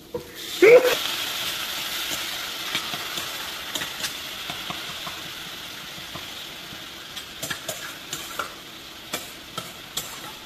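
Ginger paste frying in oil for a Bengali rui fish kalia, a low steady sizzle with a loud clatter at the start and scattered light taps of stirring throughout.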